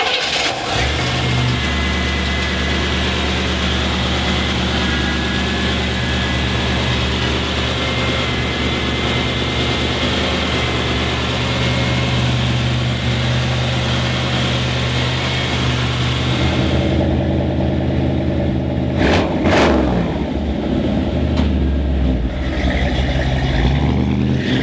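A 1955 Chevrolet 210 car engine idles steadily and loudly at close range, with a low rumbling tone throughout and a couple of sharp revs near the end.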